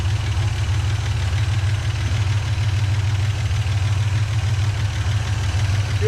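A 1963 GMC service truck with a rat rod engine idles steadily, a loud, close, continuous low rumble with an even beat and no talking.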